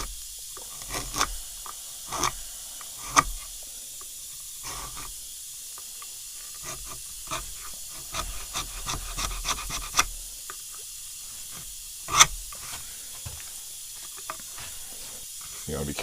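Sandpaper or a rag rubs the finish off a wooden Remington 11-87 forend held in a vise, in short scattered scraping strokes separated by quiet gaps, with one sharper louder scrape near the end.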